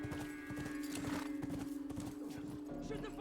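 Horse hooves clip-clop in a steady rhythmic patter in the video game The Last of Us, moderately loud under continuous game sound and a low hum.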